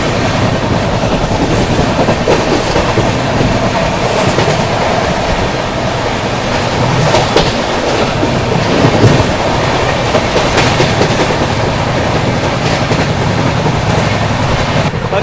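Steady rumble and rattle of an AC superfast express train in motion, the 22412 Arunachal Express, with continuous rhythmic wheel clatter over the rails and occasional squeals, heard from inside the coach.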